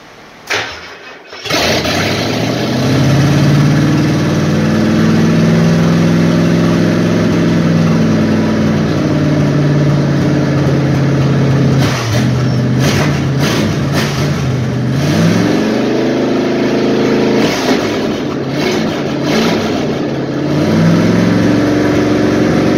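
A 460ci big block Ford V8 swapped into a Ford Crown Victoria fires for the first time, catching after a brief crank and settling into a loud, steady rumble with a few sharp revs and dips partway through.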